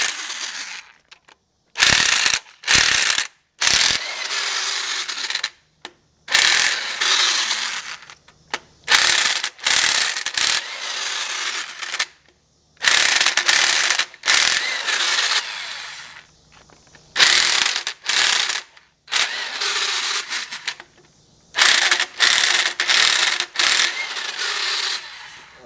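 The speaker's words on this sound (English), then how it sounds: "the only place where it's kind of acceptable to use an impact gun when you're taking a motor apart is on the head bolts" Air impact gun loosening engine head bolts during a home classic-car engine teardown, firing in repeated loud rattling bursts of one to two seconds with short silent gaps between them, close and alone.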